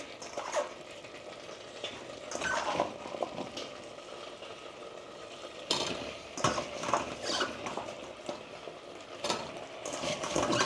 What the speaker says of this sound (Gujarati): આપણે એકવાર ફરીવાર મસાલાને મિક્સ કરી દઈએ